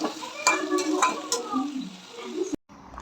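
A spoon scrapes and clinks through fish curry being sautéed in a pan, with a soft sizzle underneath, while someone talks over it. A sharp clack near the end is followed by quiet.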